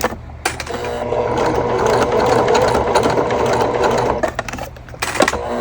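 A sewing machine runs loud and close, top stitching a bag in one long sustained run with a few short bursts at the start and end.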